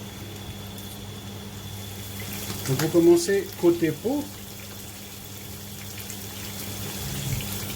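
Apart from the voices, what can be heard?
sardine fillets in corn flour frying in oil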